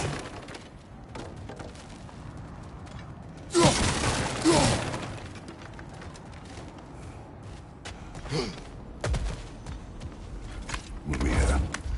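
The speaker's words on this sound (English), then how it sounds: "back to smashing through things for fun and profit" Objects smashing and shattering in God of War Ragnarok, a few loud crashing bursts spaced apart amid grunts, breaths and footsteps, with brief character voices in between.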